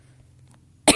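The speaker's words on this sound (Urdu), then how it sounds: "دراصل میری تھوڑی کھانسی لگی ہے، گلا خراب ہے" A single short cough bursts out at the very end after near silence, close and fairly loud, with no talk around it.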